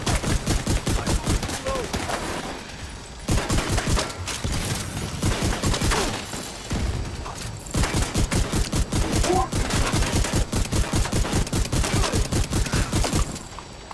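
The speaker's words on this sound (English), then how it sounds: "unleash 30 shotguns full of 7 pellets at a time" Rapid shotgun blasts ring out in The Division 2, a dense, relentless volley of loud pellet shots with brief pauses between bursts.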